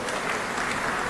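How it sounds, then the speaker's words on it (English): An audience at a conference gathering at Golconda Resort gives a round of applause, even continuous clapping from a crowd, moderately distant and without a break. "I would like everyone to please give a big round of applause."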